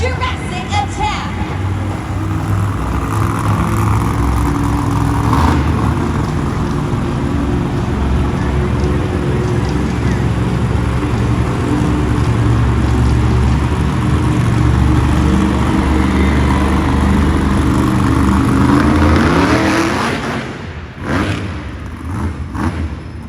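Jurassic Attack monster truck at a Monster Jam stadium show in Tacoma, Washington, engine roaring loud and sustained at near-constant revs for about twenty seconds before cutting off, with crowd ambience beneath.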